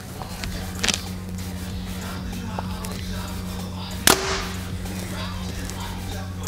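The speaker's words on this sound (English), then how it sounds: "Third shot out of the VXR 28." A single sharp rifle shot from a VXR 28 rings out at close range, one loud crack standing alone against steady low background hum.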